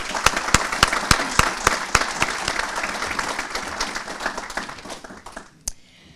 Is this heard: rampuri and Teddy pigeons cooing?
no